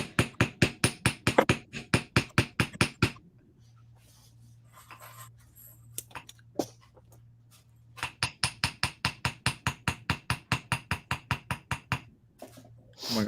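A hammer strikes wire for beaded jewelry in fast, even blows, a run of about a dozen sharp taps, then a quiet humming pause with a stray tick, then another long steady run, all close and with no speech.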